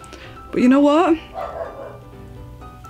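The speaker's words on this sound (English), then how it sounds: "Sorry if you hear the dog barking in the background." A dog barks a couple of times in the background of an indoor room, loud and brief, with a person talking over and after it.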